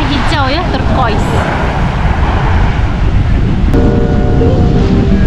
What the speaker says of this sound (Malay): dia macam ombak yang berganas. Yelah, angin tengah kuat.